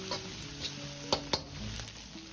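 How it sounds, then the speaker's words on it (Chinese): Meat and chili sauce stir-fry in a wok with a steady low sizzle, while a spatula scrapes and clinks against the pan a few times, close and alone without talk. "再放入10克的香辣酱，增加香味，继续翻炒"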